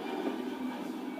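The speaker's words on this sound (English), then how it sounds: "That's definitely the sound of an airplane." A Boeing 757 airplane gives a steady, close, loud roaring drone that holds an even level from start to finish, with no voices.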